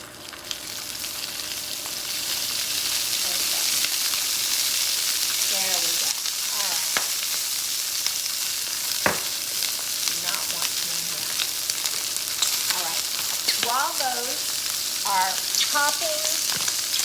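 Green beans blister in oil in a pan with a continuous loud sizzle, broken by scattered sharp pops and crackles. Faint voiced snippets surface now and then beneath the frying.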